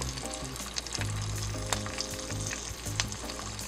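Smelt fish frying in butter in a pan, a dense steady crackling sizzle with small pops and faint hum underneath, close and continuous without talk.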